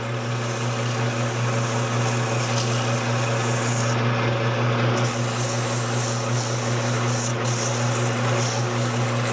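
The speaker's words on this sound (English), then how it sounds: "So I'll sand this off, get rid of a little of the tool marks." Sandpaper rubbing over a piece of turned wood on a lathe, a continuous raspy scratching under the steady hum of the spinning machine, with a brief pause in the high hiss around the middle; nobody speaks.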